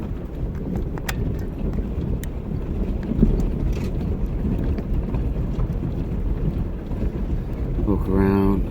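A Jeep rolls along on a morning trail ride near an abandoned silver mine, its steady engine rumble and wind buffeting the microphone filling the whole stretch at a constant, close level.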